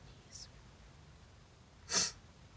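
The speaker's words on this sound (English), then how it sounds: "I'm about to sneeze." A single sharp sneeze bursts out near the end of a quiet moment, preceded by a faint sharp breath, close and fairly loud against a low hum.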